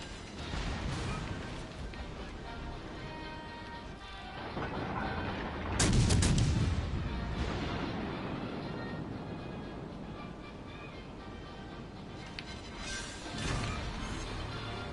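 Naval gunfire in a warship video game: a continuous low rumble with one heavy boom partway through and a few lighter blasts later, no voices.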